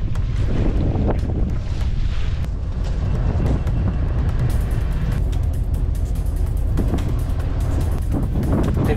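Strong wind buffets the microphone in heavy, continuous gusts aboard a sailboat at sea, with rumbling boat and water noise underneath throughout.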